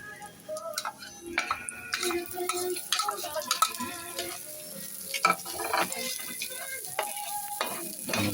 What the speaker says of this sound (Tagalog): O yan, ilagay mo yung sibuyas